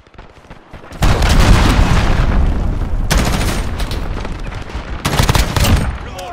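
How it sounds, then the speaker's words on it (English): Missile strike explosions and heavy gunfire in the Modern Warfare beta: a loud boom at about one second followed by sustained rattling fusillade, with further sharp bursts near three and five seconds. "Missile, take cover."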